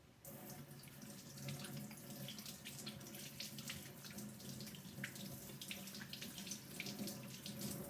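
Water runs from a kitchen tap during home bread baking, a steady, soft splashing stream into a sink for a few seconds with no voices.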